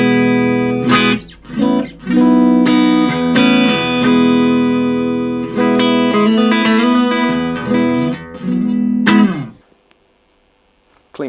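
Clean, warm electric guitar chords and single notes ring out through a Blackstar ID:Core BEAM amp on its clean warm setting, sustained and full, stopping abruptly into near silence at the end.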